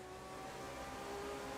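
A car engine in the racing video game The Crew 2 holds a steady, faint drone with a sustained tonal whine, like a revving motor heard briefly without any talk.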